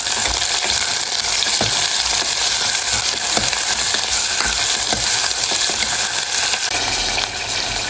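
Potato, carrot and onion stirred into a pot of sambar, a steady loud frying sizzle throughout with scattered soft clicks and scrapes of a spoon against the pan, no voices.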